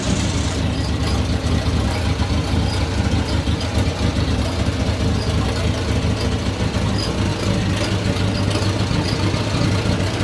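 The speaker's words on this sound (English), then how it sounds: "Again, this is a good running tractor, folks." A 1950s Farmall Model A tractor engine idles with a loud, steady, even rumble, heard close up for the whole stretch without a break.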